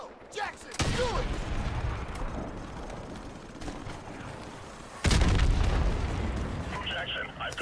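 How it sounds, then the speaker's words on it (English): Call of Duty: Modern Warfare Remastered battle in the Bog mission: a C4 charge destroys a gun with a loud, close boom and sustained rumble, a second heavy blast following amid gunfire and shouted voices. "plant the C4 on the gun! Move! Good job! Let's get to a safe distance!"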